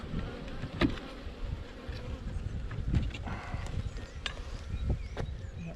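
Honey bees hum around an open hive during an inspection, a soft continuous buzz close by with a few small knocks and bumps of handling.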